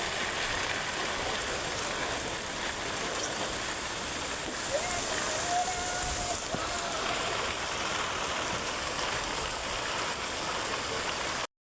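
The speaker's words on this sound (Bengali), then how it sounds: "এই বৃষ্টি পড়ছে, চল চল পালাই এবার।" Steady rain pours down outdoors during an afternoon storm, a continuous dense hiss that stays even and fairly close throughout with no break.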